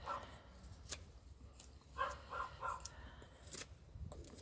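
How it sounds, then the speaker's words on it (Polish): A neighbour's dog barks at a distance outdoors in a few faint, scattered yelps over quiet background ambience, with bird calls mixed in. "szczekanie pieska sąsiada"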